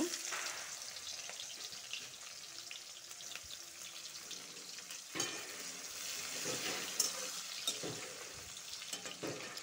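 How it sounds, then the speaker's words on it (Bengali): Steady crackling sizzle of onions and garlic frying in oil in a pan, with occasional stirring clatter and brief water sounds in the background. "লাল লাল করে ভাজবো পেঁয়াজটা।"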